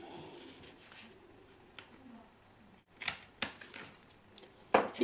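Scissors snipping through overhanging adhesive tape, a few sharp quiet cuts and crisp crackles spaced unevenly over faint background rustling.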